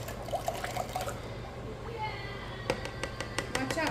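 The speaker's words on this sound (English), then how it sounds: "And I am going to mix that up and pour it in." Oat milk and honey cold process soap batter is poured into a mold, giving faint dribbling and splattering sounds that grow busier toward the end, under a speaking voice.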